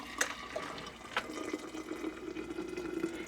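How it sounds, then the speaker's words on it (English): Boiling spring water is poured into a 32-ounce jar, a close, steady liquid gurgle and splash with a few brighter clinks and bursts, rising slightly as it fills, with no talking. "I'm going to pour in my water into the 32 ounce jar."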